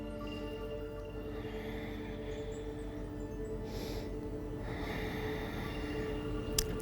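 Slow, deep breaths during a beginner morning yoga pose, soft nasal inhales and exhales rising faintly over a low room hum, with no talk.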